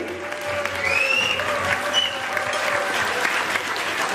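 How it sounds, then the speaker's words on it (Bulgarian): Loud, sustained applause from an audience at an award ceremony, a dense even roar of clapping with a few faint voices and whistles above it. "Силни аплодисменти!"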